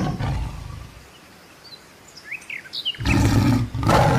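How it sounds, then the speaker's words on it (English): A tiger roars in two loud, rough bursts, one at the start and a longer one near the end, with faint bird chirps in the quieter stretch between. "T for tiger."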